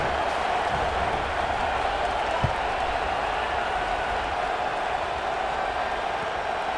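A stadium crowd in the College Football 26 video game on PS5, during a Memphis vs Auburn matchup, holds a steady, dense broadband roar that stays even throughout with no distinct cheers.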